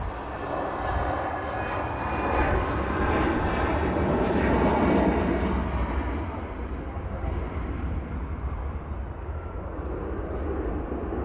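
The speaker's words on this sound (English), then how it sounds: "this EasyJet in shot is the arriving aircraft" EasyJet airliner arriving at Manchester Airport, a steady broad jet roar that swells to a peak midway and then eases slightly while staying loud and continuous throughout.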